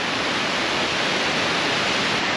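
A river flowing below a steep jungle hiking trail at Bukit Kokol, giving a steady broadband rush of water that stays even and fairly loud throughout, with no voices over it.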